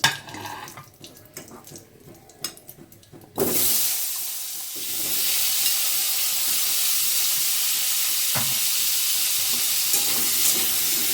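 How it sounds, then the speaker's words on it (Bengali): Potatoes dropped into hot oil in a home kitchen, after cauliflower was fried, burst into a sudden loud sizzle following a few quiet clinks, then settle into a steady, close frying hiss. "এবার আমি তেলে আলু ছেড়ে দেবো।"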